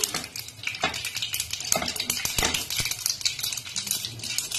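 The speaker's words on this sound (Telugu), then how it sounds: "ఇందులో మనం కొద్దిగా ఆవాలు వేసుకుందాము" Mustard seeds hitting hot oil in a pan for a chicken gravy: a dense, continuous crackle and spatter with sharp pops and clicks throughout, close and fairly loud.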